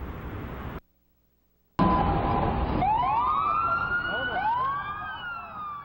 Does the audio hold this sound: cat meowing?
no